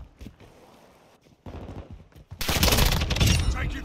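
Gunfire in the Call of Duty Modern Warfare 2 video game during a team deathmatch, scattered shots at first, then a loud, rapid burst of automatic fire in the last seconds.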